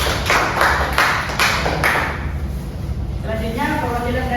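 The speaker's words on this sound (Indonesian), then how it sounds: "tepuk tangan dulu." Classroom students clapping for a group presenter: a short burst of hand claps in the first two seconds that then fades out, followed by a voice beginning to speak.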